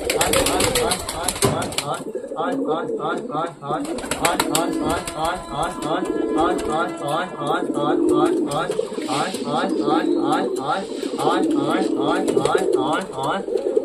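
Wild pigeons kept at a home coo repeatedly in a steady, rhythmic series of soft throaty calls, with a person talking over them throughout.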